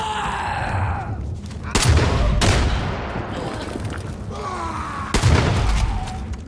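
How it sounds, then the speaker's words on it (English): A double barrel shotgun fires in Far Cry 5, two heavy close blasts a few seconds apart, each trailing off into a rumbling decay between quieter stretches. "I really do love this double barrel shotgun"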